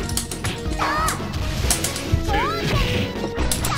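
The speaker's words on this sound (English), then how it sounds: "K gets smashed in the face." Heavy punch impacts land in the arcade fighting game The King of Fighters 2000, sharp smashing hits and whooshing swipes in quick succession over busy game music and effects.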